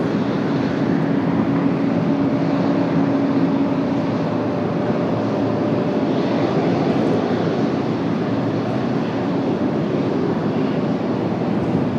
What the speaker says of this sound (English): United Airlines, 885 coming in from Rome. This 777-200 ER delivered back in February of 1999